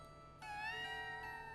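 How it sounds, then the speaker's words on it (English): A small kitten mews with a faint, thin, rising cry that holds briefly over a steady low hum, heard from a cartoon. "It's a kitten. It looks lost."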